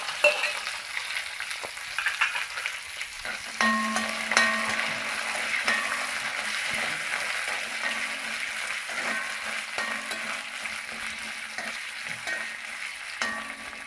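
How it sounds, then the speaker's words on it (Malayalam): Shallots and ginger fry in hot oil left from earlier frying for tomato chutney, a steady close sizzle with occasional stirring scrapes throughout. "വറുത്ത് മാറ്റി വെച്ചിരിക്കുന്ന അതേ എണ്ണയിലേക്ക് തന്നെ നമ്മൾ ചുവന്നുള്ളി ഇട്ട്, ഒപ്പം നമ്മൾ ഇഞ്ചിയും ഇട്ട്"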